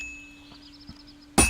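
Metal struck with a hammer at a blacksmith's forge in Kingdom Come Deliverance 2: a quiet, faintly ringing lead-in, then one sharp, loud metallic clang at the very end.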